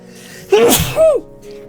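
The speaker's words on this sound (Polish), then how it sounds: "Czekaj, będę kichał." A single sneeze bursts out loud and close, a sharp inhaled buildup followed by a noisy explosive release, with faint tonal game music and voices around it.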